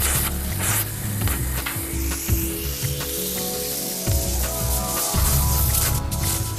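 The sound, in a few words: gas welding torch melting filler rod into a crack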